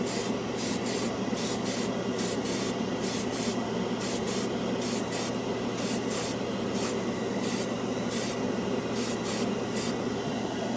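An airbrush sprays cheap craft store acrylic paint onto a scale model in repeated short hissing bursts, each a second or less, over a steady background hum, with no talk.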